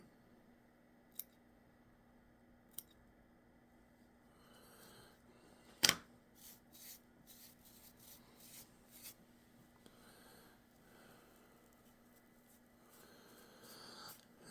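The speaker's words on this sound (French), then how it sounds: "j'utilise mes ciseaux arrondis" Rounded scissors trim hair while tying a Buford pike and muskie fly: a few faint, quiet snips and rustles, with one sharper, louder cut near the middle, close up and without talk.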